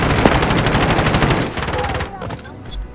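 Rapid automatic gunfire in Call of Duty: Modern Warfare on Rebirth Island, loud dense bursts that thin out into scattered shots and combat noise toward the end.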